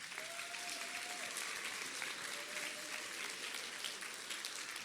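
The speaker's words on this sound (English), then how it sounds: "If you would give him a round of applause." Audience at a Selma Middle School fall band concert applauding, a dense steady wash of clapping from a crowd that continues throughout.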